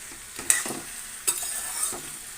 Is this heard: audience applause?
no